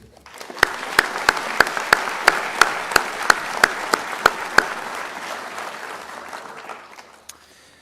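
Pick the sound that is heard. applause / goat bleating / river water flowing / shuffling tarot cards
applause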